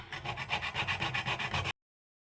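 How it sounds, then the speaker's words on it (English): Small nutmeg grater scraping across an amber block in quick rhythmic strokes, about a dozen close raspy rubs before stopping abruptly. "grating the amber block. I use this little nutmeg grater because it gives you a very fine finish"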